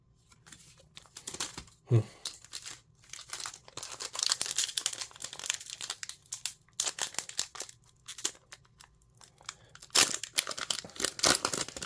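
Thick trading card blaster-box packaging is torn open by hand, giving close, irregular crinkling, ripping and rustling bursts with short pauses and one sharp rip early on.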